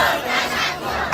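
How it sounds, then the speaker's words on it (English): A large crowd of Iranians roars and cheers in support of the armed forces, a dense, continuous wash of many voices shouting together, loud and sustained with no single speaker standing out. "Hundreds of people cheering in support of the armed forces."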